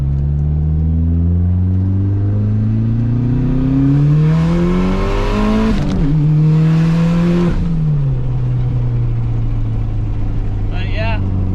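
A DSM car pulls hard through second gear, its engine note rising steadily in pitch, dipping briefly at a shift near the middle, then climbing again, loud and close from inside the cabin.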